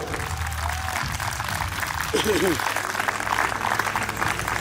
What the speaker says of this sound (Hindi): एक बार जोरदार तालियां तरुण के लिए.